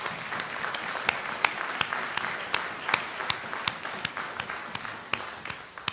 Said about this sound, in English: I'd like to introduce her for a round of applause.